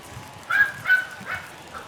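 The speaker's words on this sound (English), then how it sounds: "There's one of our guard dogs." Guard dog barking at a sports ground, three short barks in quick succession followed by a fainter fourth, heard at moderate distance.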